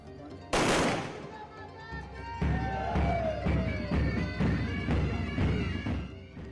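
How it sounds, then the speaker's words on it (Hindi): Soldiers fire guns into the air as a traditional salute at a Maha Navami weapon-worship ceremony in Patna, a sharp loud crack followed by a series of repeated outdoor shots, with voices faintly in the background. "जवानों ने हवाई फायरिंग करके मां को परंपरागत सलामी दी।"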